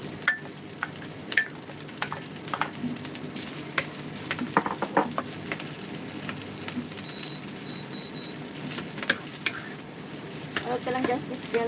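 Leftover fried rice stir-fried in a pan, sizzling with repeated scraping and clacking of the utensil against the pan, close and uneven, with faint birds in the background.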